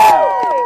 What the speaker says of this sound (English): round of applause for these champions